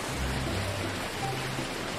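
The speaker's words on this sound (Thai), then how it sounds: "มันฝนตกตลอดเวลา" Steady, soft rain falls in the block-building game Mini World: Block Art, a continuous even hiss of drops with a low rumble underneath, no voices over it.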